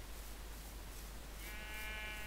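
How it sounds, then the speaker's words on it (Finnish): A red sheep in the Minecraft video game gives one short, quiet bleat near the end, over a faint steady background hum, with no talking. "Punainen lammas, punainen."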